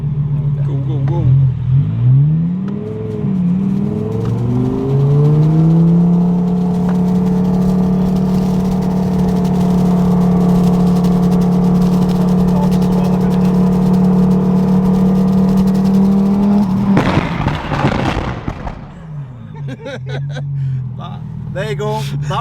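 Twin-turbo Audi R8 tuned past 1000 hp, heard from inside as the engine climbs through a long sustained pull with a steadily rising drone, then a sharp burst of noise as revs drop and settle back to a throbbing idle.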